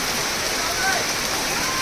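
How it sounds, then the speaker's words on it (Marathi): Heavy monsoon rain pours down in a Konkan village at Adavali, Lanja, a dense, unbroken hiss that stays loud and steady throughout. "पाऊस बघा किती मजबूत पडतो आहे"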